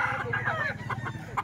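A chicken of a kind kept in numbers at a house calls out in a short run of clucking, crow-like notes, close and fairly loud, against a low rhythmic background.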